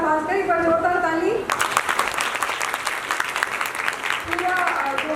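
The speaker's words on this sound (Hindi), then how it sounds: "एक बार जोरदार ताली" Loud audience applause breaks out in a hall at an Independence Day celebration, starting after a brief spoken line and continuing as dense, steady clapping to the end.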